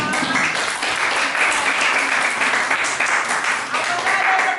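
Students in a classroom applaud a presenting group during an Islamic education lesson, steady dense clapping sustained at close range for several seconds with faint voices mixed in.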